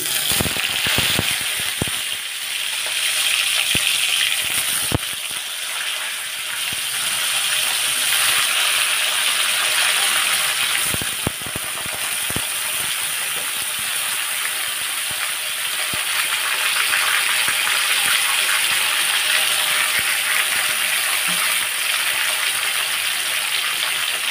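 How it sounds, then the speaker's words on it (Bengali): Salted, turmeric-rubbed fish frying in hot oil gives a steady, loud, continuous sizzle and crackle throughout with occasional sharper pops and no talking. "এবারে আমি মাছটি ভাজা করে নিচ্ছি।"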